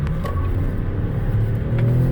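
A 2020 Chevy Impala LT with a V6 accelerates hard, its engine droning and rising steadily under a low rumble of road noise from inside the cabin.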